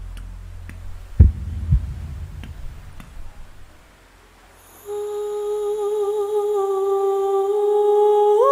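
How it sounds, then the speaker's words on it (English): A slow, deep thudding heartbeat opens a music performance, several low beats alone, then drops away before a sustained high vocal tone with droning harmonics takes over. "Oh, that heartbeat."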